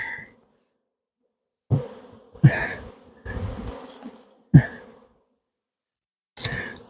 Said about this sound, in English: I don't know where those bees came from